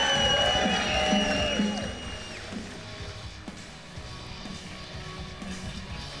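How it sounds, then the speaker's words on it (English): A crowd at the 2024 STIHL TIMBERSPORTS North American Trophy cheers and whoops. The loud burst at the start fades into a lower murmur of crowd noise, with some voices mixed in. "Big round of applause, Matt Cogar."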